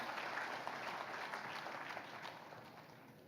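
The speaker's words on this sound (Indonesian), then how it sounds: "Apresiasi dan tepuk tangan buat 5 yang di atas ini." An indoor audience at a municipal year-end review presentation claps together in a short burst of applause, steady and then gradually tapering, heard from some distance at modest loudness.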